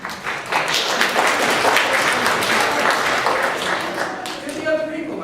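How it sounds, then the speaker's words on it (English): Applause from a classroom or workshop audience after a group messaging activity, a steady burst of many hands clapping that holds for several seconds before tapering, with voices and chatter mixed in. "give yourselves a round of applause"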